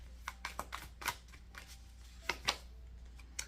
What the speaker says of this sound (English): Clarify these cards, please. I'm gonna shuffle.